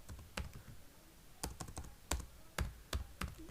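Typing on a computer keyboard while working in a Microsoft Excel 2010 spreadsheet: sharp, separate key clicks in irregular bursts, close and fairly quiet, with no voices.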